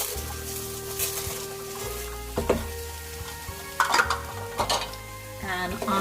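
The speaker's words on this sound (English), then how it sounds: "and I am going to give that a good mix" Rice stirred with a wooden spoon into sweated onions in a pan for a creamy Italian risotto, a soft steady sizzle under repeated scraping and knocking strokes against the pan, close by with no talking.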